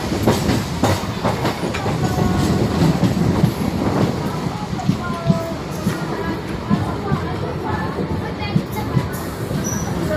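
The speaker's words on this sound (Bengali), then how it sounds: "এই আস্তে আস্তে চলে যাচ্ছে ট্রেনটা।" A passenger train rolling slowly along the rails, with a continuous low rumble and irregular wheel clatter heard from on board, steady and fairly loud.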